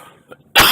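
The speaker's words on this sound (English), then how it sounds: "I get this coughing fit that keeps coming up." A single harsh, loud cough bursts out close to the microphone from a person with bronchitis, following a moment of near silence and faint breathy sounds.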